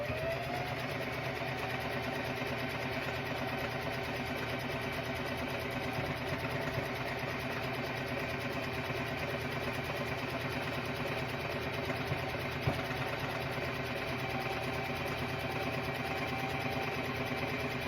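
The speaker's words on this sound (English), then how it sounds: "I'm going to go ahead and sew here." A sewing machine stitching quilt blocks together, running in a steady, even hum with a fast mechanical whir, held continuously and fairly quiet without pauses.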